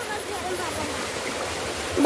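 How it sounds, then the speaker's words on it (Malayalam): A waterfall at a scenic spot, its steady rushing roar filling the background with a constant wash of falling water that swells slightly at the end. "കണ്ടോ ഗൈസ്, വെള്ളച്ചാട്ടമാണ്"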